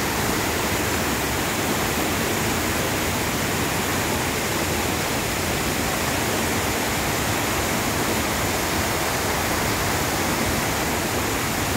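Tinuy-an Falls pours a strong, splashing current in a steady, loud broadband roar of rushing water, close and unbroken throughout, with no voices.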